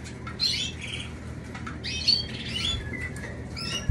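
Canaries bathing, several bursts of wing flapping and splashing with short squawky chirps, close and moderately loud over a steady low background hiss, no talk.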